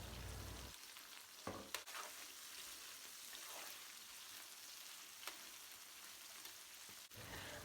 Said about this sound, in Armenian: Մի թեթև այսպես մսի հետ տապակում եմ